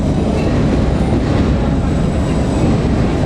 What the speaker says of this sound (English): There's a Thameslink train up there.